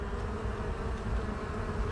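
Honey bees buzz steadily and densely at an open hive while a new queen colony is inspected, a close, continuous droning hum with no voices.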